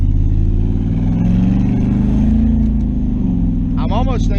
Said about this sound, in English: sometimes it'll even just break up like it's misfiring or something up top